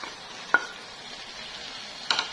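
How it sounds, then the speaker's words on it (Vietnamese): Braised eggplant with pork cracklings is stirred in a pan, with a faint steady sizzle and two sharp utensil scrapes against the pan, close and quiet. "để mình cho tóp mỡ vào mình trộn cho nó thấm"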